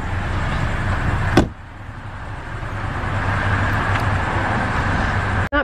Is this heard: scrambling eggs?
no